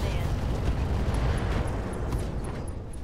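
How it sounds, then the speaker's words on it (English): Ammo explosion in a mech's left torso in the BattleTech mod Roguetech, a loud rumbling blast with crackling secondary pops, sustained and heavy, fading slightly toward the end. "Ammo explosion, left torso,"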